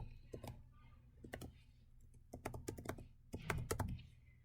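Fingers typing on a computer keyboard, close and fairly quiet, in quick clusters of keystrokes separated by short pauses.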